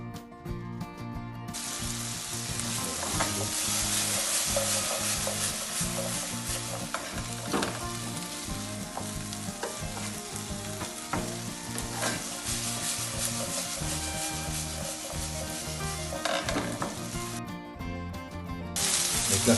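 Onion stir-fried in a pan for an eggplant and chicken gizzard stir-fry, a steady loud sizzle with scraping stirs throughout, heard over soft background music.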